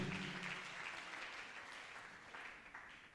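A church congregation claps in applause at a worship service, with a steady wash of hands that stays fairly faint and fades gradually.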